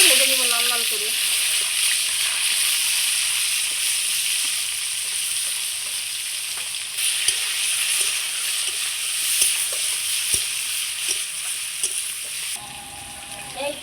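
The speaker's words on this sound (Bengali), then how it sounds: "এবার সিদ্ধ করা কাঁঠালটা সুন্দর করে ভেজে নিব লাল লাল করে।" Boiled jackfruit fries in a pan with a continuous close sizzle and bubbling crackle, occasional stirring clicks on top, and a brief voice near the start.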